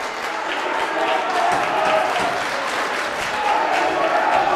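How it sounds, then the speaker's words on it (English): A wrestling crowd at a New Jersey championship match roars and applauds in a dense, sustained wall of cheering that fills the arena without pause, loud and continuous. "Hear that this crowd! Hear that crowd!"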